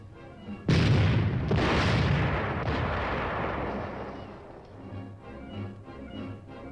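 High-velocity 90mm guns of a Cold War tank platoon firing: a loud sudden blast, then a second report, followed by a long rolling rumble that slowly fades, with nothing else heard.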